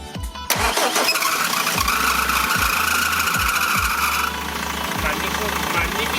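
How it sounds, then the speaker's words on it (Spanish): A BMW car engine cranks and catches after a thermostat and coolant job, then settles into an idle with a loud, steady belt squeal and a rhythmic low thumping, close by, with a person speaking briefly. "vamos a arrancar ya el coche"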